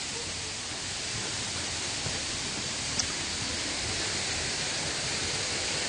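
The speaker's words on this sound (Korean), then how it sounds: "얘가 2번 폭포고" A steady, loud rushing roar of falling water from Cheonjeyeon waterfall on Jeju, continuous and even with no voices, like standing near a waterfall.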